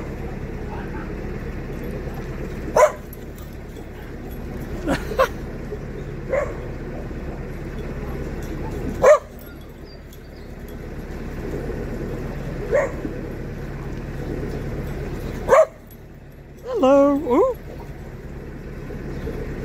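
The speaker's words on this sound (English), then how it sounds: "Apparently this little doggy likes chasing the boats." A small dog barks in short, separate yaps spread out over steady outdoor background noise near boats, with a brief whimpering sound near the end.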